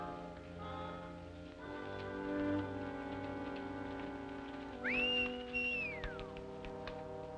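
A person whistles for a horse, a rising, sustained note that falls away, over soft music and quiet background, fairly near and clear.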